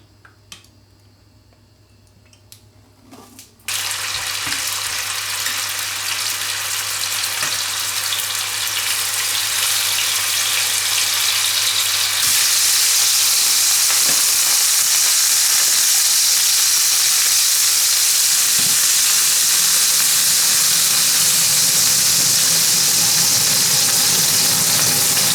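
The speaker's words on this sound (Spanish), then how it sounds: "Echamos aceite de oliva en la sartén." Olive oil sizzling and frying in a pan while making a quick chicken and leek empanada, starting abruptly after a few seconds of quiet and holding a loud, steady crackling hiss that grows brighter toward the end.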